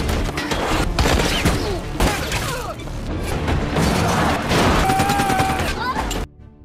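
Gunfire erupts as a group of locals opens fire, a dense, chaotic burst of sharp cracks and crashing impacts over several seconds, with voices and shouting mixed in before it cuts off abruptly.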